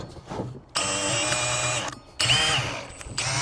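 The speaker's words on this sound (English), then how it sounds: "if you have a hole saw this big, take your chuck and adjust it so you don't wrench your hand off when this pops through" Power drill with a large hole saw cutting through material for a DIY pond fountain pump build, whining in two sustained runs with a short pause between, close and steady.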